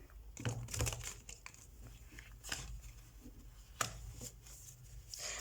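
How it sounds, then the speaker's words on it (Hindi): Tarot cards are shuffled close and quiet, giving soft papery riffles and crinkly flicks in irregular bursts with brief pauses between them. "तो सबसे पहले हम कार्ड शफल कर लेते हैं आपके लिए कैप्रिकॉर्न"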